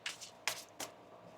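Tarot cards being shuffled by hand in three soft, brief bursts of papery rustle spaced a fraction of a second apart, close and quiet.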